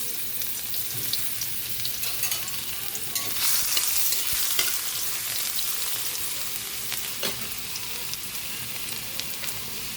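Garlic sautéing in a pan for ginisang toge, a steady broadband sizzle with stirring scrapes and small spatter pops, close and continuous with no talk.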